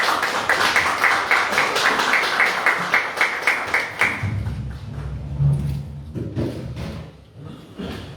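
At a Democratic Party youth politics lecture in Jeju, a crowd applauds to welcome the provincial chapter chairman: sustained dense clapping that fades into scattered claps, thumps and footsteps as he comes forward.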